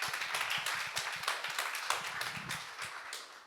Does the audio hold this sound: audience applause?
yes